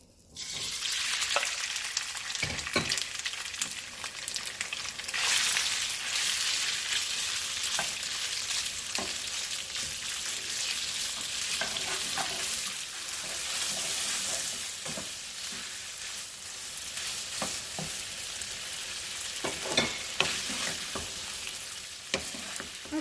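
Beef sizzles and fries steadily in a generous pour of oil in a pan for a beef and rice noodle stir fry, a loud continuous hiss broken by occasional clatters of stirring, with no talking.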